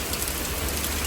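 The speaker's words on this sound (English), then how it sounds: "I have to walk past this rain" Steady rain falls around a bus stop while someone walks past, a dense, even patter on the surfaces nearby with no pauses and no voices.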